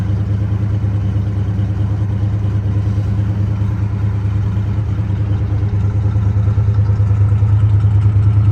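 A 1965 Pontiac GTO Tri Power engine idles steadily with a deep, low exhaust rumble, constant and close, with faint mechanical clatter and no voices.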